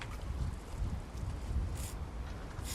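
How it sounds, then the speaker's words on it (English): Wind blows outdoors, a steady low rumble buffeting the microphone with gusty swells throughout, and no talking. "It's windy here."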